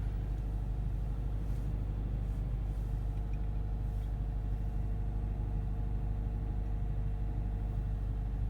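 A Toyota GT86 with its FA20 engine idles after a cold start, a steady low rumble with a constant hum, close and unbroken throughout without speech.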